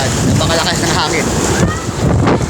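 Heavy wind from Typhoon Marcy buffets the microphone in a constant loud roar, with a voice speaking faintly underneath.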